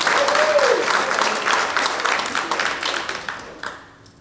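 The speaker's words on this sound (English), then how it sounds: "You may applaud for them." A community museum program audience applauds the board and volunteers, a warm burst of clapping that starts full and gradually fades over a few seconds.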